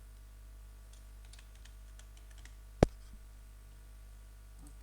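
Fast, light clicking of computer keyboard keys, soft and close, in quick irregular bursts with one sharper tap standing out, over a steady low electrical hum.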